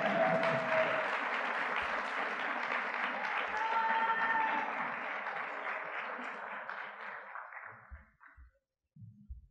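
Sustained applause from an audience at an awards showcase, honouring tied award winners; steady, dense clapping for about eight seconds that fades out near the end.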